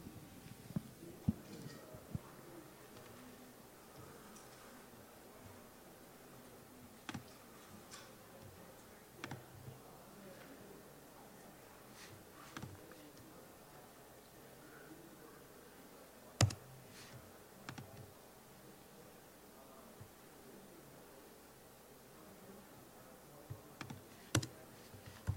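Typing on a laptop keyboard at a hacking conference demo gives faint, irregular clicks and taps scattered over a quiet room hum, with a few sharper isolated keystrokes.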